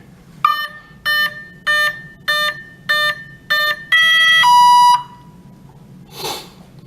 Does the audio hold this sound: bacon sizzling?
no